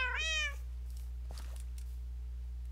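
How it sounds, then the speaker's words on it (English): A single clear meow from a cat in a Minecraft game at the start, then a steady low electronic hum with a faint click, no talking. "I heard a meow."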